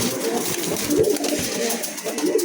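A pair of racer pigeons cooing close by, soft throaty rolling coos overlapping continuously in a loud, dense texture with no talk.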